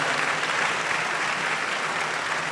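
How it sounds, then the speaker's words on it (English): A university great hall audience gives sustained, dense applause, steady and loud throughout with no speech over it. "Please let's invite her with a round of applause to give us the opening prayer"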